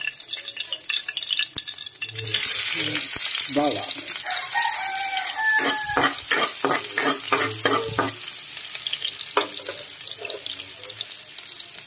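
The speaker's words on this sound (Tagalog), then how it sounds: "Mainit na. Lagyan na natin ang ating bawang." Chopped garlic hits hot cooking oil, and after a couple of seconds a loud, broad sizzle starts and holds, crackling on with a few other background noises and some faint voice.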